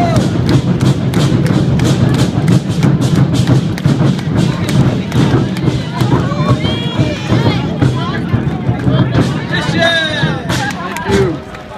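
A traditional Taiwanese drum show at a festival: rapid, heavy booming strikes hammer on in a dense, driving rhythm, loud and close, while a crowd murmurs and cheers beneath and more clearly near the end.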